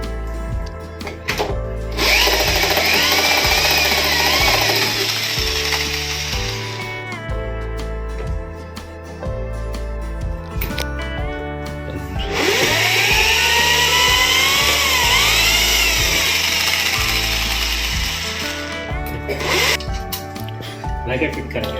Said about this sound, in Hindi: चलो अभी ड्रिल मारेंगे।